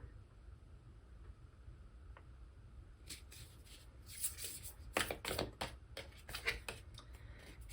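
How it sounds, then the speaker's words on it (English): Tarot cards are shuffled by hand in quick, papery bursts of riffling and slapping, close and fairly quiet after a few seconds of near silence. "These do not want to shuffle"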